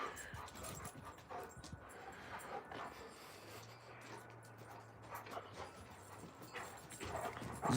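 Alaskan Malamute dogs play outdoors, with soft yips, whimpers and scuffling paws against faint background noise, and a low growl-like hum midway.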